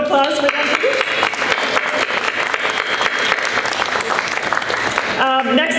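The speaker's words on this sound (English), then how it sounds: "a round of applause for them, please" An audience applauds at a public arts event, a loud, sustained burst of many hands clapping close by, with voices and cheers mixed in, tapering near the end.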